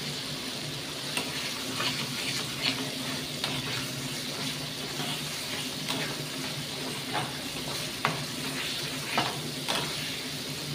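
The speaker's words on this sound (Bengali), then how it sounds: "মশলাটা ভালো করে ভেজে নেব। দেখুন এখানে তেলটা ছেড়ে আসছে।" Masala fries in oil with a continuous sizzle and crackle, broken by occasional scraping stirs and light clinks of a spoon against the pan.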